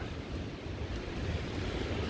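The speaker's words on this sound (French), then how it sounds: "T'entends le vent?" Strong storm wind roars in a continuous broadband rush, buffeting the microphone with gusty, surf-like noise.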